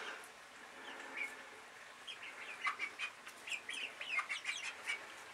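Ten-week-old chicks in a coop clucking and peeping, a run of soft, close, repeated calls that grows busier toward the end, over a quiet background.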